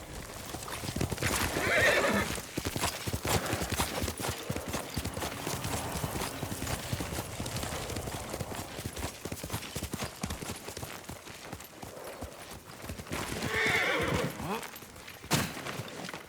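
Yuriko's horse in Ghost of Tsushima whinnies near the start and again near the end, with steady hoofbeats clopping between the calls for a long stretch.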